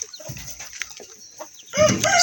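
Hens cluck in short scattered bursts, then a louder run of close, raspy clucking and squawks closes out the clip.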